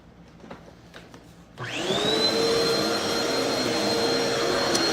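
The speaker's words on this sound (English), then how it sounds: "Yeah, we're gonna vacuum." A household vacuum cleaner switches on after a quiet moment, spinning up with a rising whine into a loud, steady motor drone that holds to the end.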